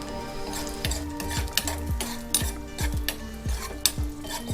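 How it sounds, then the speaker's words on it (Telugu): Cashews frying in a teaspoon of ghee in a small pan, with a soft sizzle under repeated clinking stirs of a spoon against the metal, close up and steady in rhythm. "చిన్న పాను పెట్టుకొని 1 టీ స్పూన్ నెయ్యి వేసుకున్నానండి. దాంట్లో కాస్త జీడిపప్పు వేసుకున్నాం, 20 గ్రాములు."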